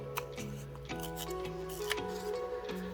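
Scissors snip paper while crafting a December Daily journal page with magazine or newspaper pieces and burlap; a few close, crisp cuts over a steady background hum.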